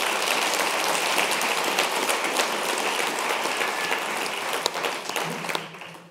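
An audience at a film screening and discussion claps in sustained, dense applause that stays steady and loud before thinning out near the end, with no talk over it.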